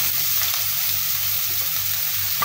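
Onion frying in coconut oil in a pan for Egyptian prawn fried rice, giving a steady, close, even sizzle that holds from start to finish with no talking.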